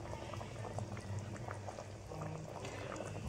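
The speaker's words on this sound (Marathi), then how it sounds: "आता खूप छान उकळ येते" A pot of spicy fish curry bubbles at a steady boil, giving a soft, continuous burble with small pops, close but quiet, with no talk over it.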